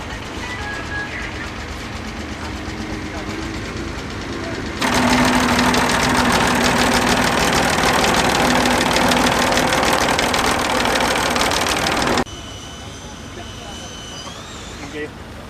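An original-condition David Brown 950 tractor at a tractor show, heard as a steady mechanical engine drone with a louder, denser stretch in the middle and quieter running before and after.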